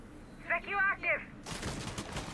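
Gunfire in Rainbow Six Siege, a burst of shots fired out through a generator window, rattling dense and continuous for about a second after a brief stretch of voice.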